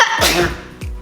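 A quick, forceful sneeze burst up close, followed by a short second exhalation, over a noisy background.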